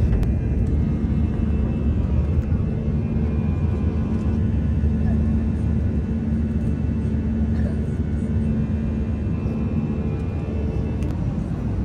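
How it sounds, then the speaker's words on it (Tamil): A passenger airplane climbing after takeoff gives off a steady, loud low engine rumble and roar that holds without a break, like the drone heard inside the cabin. "ஓகே இப்போ பார்த்தீங்கன்னா ஃப்ளைட் வந்து மேலோடு பறக்க ஆரம்பிச்சிட்டுது."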